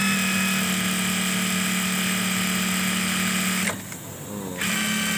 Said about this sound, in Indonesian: Tek sample saya jahit nggak berhenti.